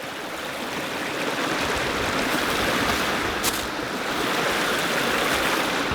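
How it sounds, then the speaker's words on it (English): A stream on the Appalachian Trail flows steadily and close by, a continuous broadband rush of running water with no talk over it. "we're stopping here because we found a stream"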